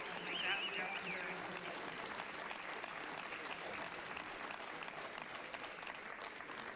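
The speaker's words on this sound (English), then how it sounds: "So can we have a round of applause?" Faint, dense applause from an audience at a squash event, a continuous wash of clapping that holds steady throughout, heard at a distance without much change in level.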